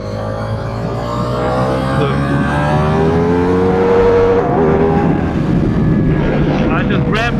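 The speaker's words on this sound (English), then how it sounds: "I just rammed it there in the quick shifter and I mean in the rev limiter." A Ducati Diavel V4 motorcycle engine roars loud and close as it revs hard against the rev limiter, a sustained, buzzing snarl with wind noise throughout.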